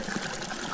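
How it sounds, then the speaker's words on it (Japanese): Rainwater flowing as a stream through a flooded tent site on a Pakistan mountaineering expedition: a continuous, soft trickling and gushing of water, steady and fairly faint. "降り続く雨でテントを張った場所が川になってしまいました。"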